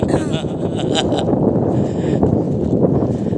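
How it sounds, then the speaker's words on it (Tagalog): Strong wind buffets the microphone with a loud, continuous rumbling roar throughout. "Ang lakas ng hangin."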